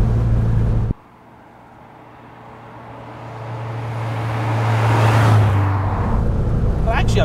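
A Lotus Type 14 Elite sports car at speed, heard from inside: a steady engine drone and road noise that drops suddenly, then swells back up as the car accelerates.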